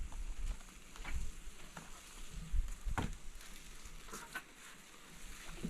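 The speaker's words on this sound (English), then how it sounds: "you hear that nice little sizzle?" Mushrooms sizzle softly in a hot pan, a faint steady hiss broken by several scattered clicks and knocks.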